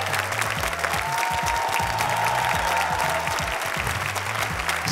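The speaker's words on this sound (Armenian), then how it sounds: "այս պահին ծափարում ենք" Sustained audience applause after a performance at a televised national singing contest gala show, dense and continuous over steady background music, with faint voices beneath.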